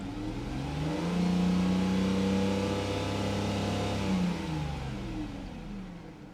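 A Mercedes car engine revs up, holds a smooth, deep, reserved hum, then eases back down, steady and fairly close with no talking.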